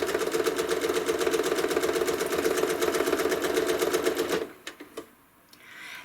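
A quilting machine stitches curves and loops at a fast, steady rhythmic whir that runs loudly for about four seconds, then stops, leaving a few faint clicks and handling noises.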